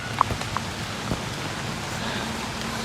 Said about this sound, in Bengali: আজকে বৃষ্টিটা হয়েছে ফাটাফাটি